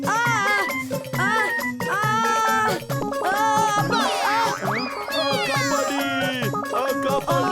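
A cat meows over and over, loud and close, with rising and falling cries layered over a steady rhythmic musical beat.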